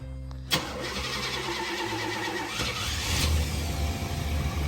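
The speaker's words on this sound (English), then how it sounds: "We're gonna give her a start." A 1985 Chevy Suburban C20 engine cranks with a sharp click, catches and settles into a rough, steady idle that swells slightly toward the end, close and fairly loud with no talking.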